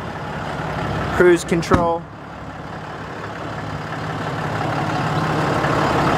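A 2014 Dodge Ram 5500HD flatbed 4x4 with a 6.7 liter Cummins turbo diesel sits idling with a steady, even rumble. Someone speaks briefly near the start.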